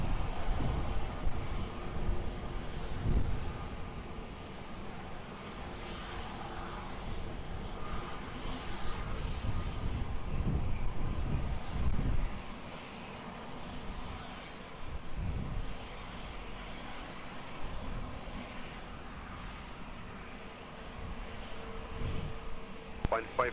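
An airliner takes off from runway 20 at Lisbon Airport, its jet engines a sustained, broad roar that swells and then gradually fades, with some wind buffeting on the microphone.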